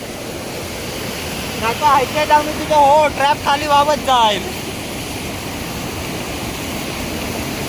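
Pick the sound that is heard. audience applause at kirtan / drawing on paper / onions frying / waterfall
waterfall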